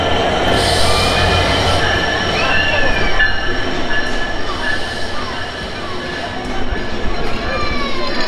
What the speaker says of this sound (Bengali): এই হচ্ছে লাক্সারিয়াস চিলাহাটি এক্সপ্রেস ট্রেন